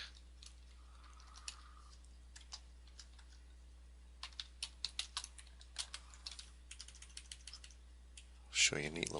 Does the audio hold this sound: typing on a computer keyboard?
yes